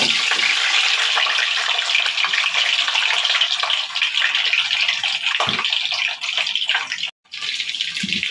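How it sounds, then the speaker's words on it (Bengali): Eggs fry in a pan for an egg korma, giving a loud, steady close-up hiss and sizzle that runs throughout with only a brief dip near the end. "ডিমগুলো আমি বেশি লাল লাল করে ভাজবো না, একটু হালকা।"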